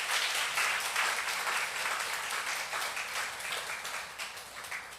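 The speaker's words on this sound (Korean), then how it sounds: "주님께 영광의 박수 올리겠습니다." A church congregation applauds together after a sermon, a dense, steady wash of many hands clapping at moderate distance for several seconds before slowly easing off.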